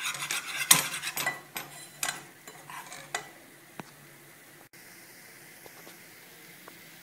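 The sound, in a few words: stirring flour-butter mixture in a pan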